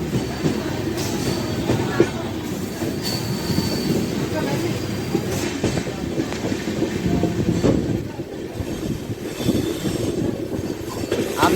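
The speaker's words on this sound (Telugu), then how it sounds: "564 కిలోమీటర్ల డిస్టెన్స్ కంప్లీట్ చేసి ఈ ట్రైన్ చేరుకుంది భుసావల్ జంక్షన్" Train 22738 from Ahmedabad to Secunderabad rolls into Bhusaval Junction, its steady loud rumble, rattling carriages and squealing wheels continuing throughout with occasional metallic clanks.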